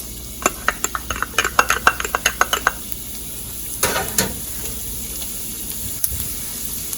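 Garlic dropped into hot oil in a pan for Jamaican curry chicken, a quick run of sharp rhythmic taps and stirring clicks followed by a low steady sizzle and an occasional scrape, close by.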